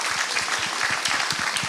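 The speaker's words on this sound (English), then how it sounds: "Can we give a big round of applause," Applause from the audience at a Model UN conference opening ceremony, a short burst of close, distinct claps with a loose, quick rhythm lasting under two seconds.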